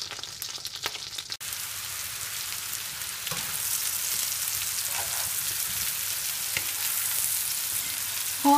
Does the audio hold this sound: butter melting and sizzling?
yes